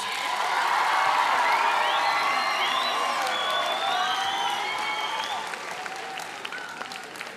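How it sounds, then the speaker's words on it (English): A crowd applauds loudly and steadily, with a few whoops and cheers rising above the clapping, which gradually thins out toward the end. "please give yourself a round of applause"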